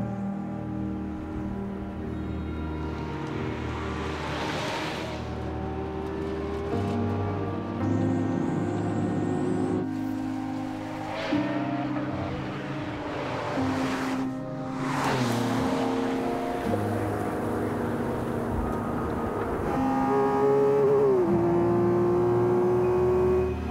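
A Lamborghini Aventador SV's naturally aspirated V12 revs and pulls hard, its harmonic engine note rising and falling through gear changes with loud, close, sustained bursts of acceleration and no talking.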